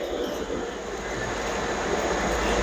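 Steady, loud rumble of a train running toward Norwich, a continuous dense roar with a faint high whine throughout, heard close up from on board with no voices.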